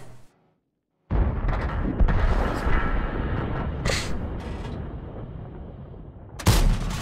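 Tank cannon shots in World of Tanks, a sudden heavy blast after a brief silence followed by a long rumbling decay, then another loud crack near the end.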